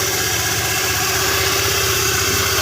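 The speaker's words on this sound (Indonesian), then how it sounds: "motor ini keluarnya ada dredet itu, kadang-kadang dredet gitu kata pemiliknya ya" A Honda Vario 125 motorcycle engine idles close by with a steady running hum and an irregular rattling vibration, with no talk over it.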